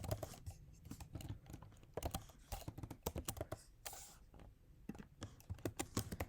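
Close-up keystrokes of Python code being typed on a computer keyboard form irregular bursts of sharp clicks and clacks, with short pauses between runs.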